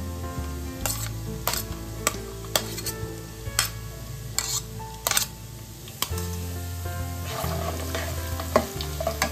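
Sliced medium onion sizzling in hot oil in a pan, a steady close frying hiss with repeated sharp stirring scrapes and clicks from a utensil, no voices.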